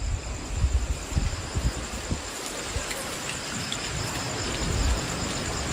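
Heavy rain during a hailstorm in Phetchabun, Thailand, a dense continuous roar of downpour with some low rumbling bumps early on and a steady hiss throughout.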